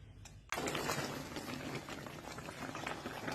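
A pot of Thai moringa sour curry (gaeng som) bubbles at a steady, close boil, its dense simmering crackle starting abruptly and continuing without any talk.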